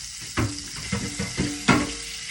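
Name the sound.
rinsing a pan under running tap water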